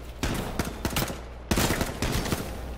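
Gunfire from a shooter video game: two loud, close bursts of rapid shots, each a dense volley of cracks with a brief pause between them and no talk.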